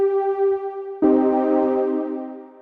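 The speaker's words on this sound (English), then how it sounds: "This is the pad, but I've added some effects so it really sounds like this." A Serum synth pad in FL Studio, processed with a Gross Beat half-beat gate and retro coloring, holds a sustained tonal chord. After about a second it shifts into a brighter, thicker swell, then gradually fades.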